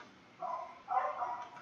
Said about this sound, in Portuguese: Meu cachorro tá latindo desesperadamente